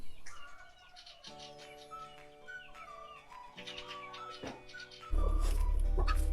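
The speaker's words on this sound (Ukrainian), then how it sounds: "качка пищить собі по стайні" A Muscovy duck squeaks and peeps repeatedly in a barn, tonal calls rising and falling, with a loud low hum starting near the end.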